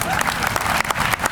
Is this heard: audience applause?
yes